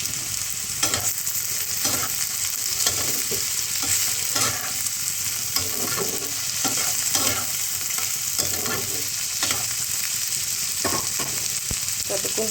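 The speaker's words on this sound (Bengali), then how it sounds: "আর একটু ভাজা হবে আলুটা।" Potatoes fry with green chili for ghugni in a pan, with a steady close sizzle broken by repeated scraping stirs of a spoon throughout, and no talking.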